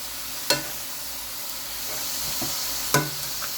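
Beef sizzles in a pan with a soft, steady hiss, broken by two sharp clattering flips spaced a couple of seconds apart.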